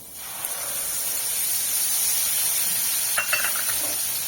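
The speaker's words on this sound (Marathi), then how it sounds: "त्याच्यामध्ये आधी मी थोडीशी कोथिंबीर घालणार आहे त्याच्यानंतर हे मसाले" Coriander and spices sizzling in hot oil tempered with cumin for dhaba-style rajma, a steady, loud, close hiss with a faint stir or two near the end.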